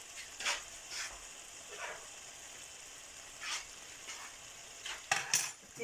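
Kala bhuna masala being stirred in a hot pan, soft sizzling with scattered scraping spoon strokes and a few clinks of utensils, fairly quiet throughout.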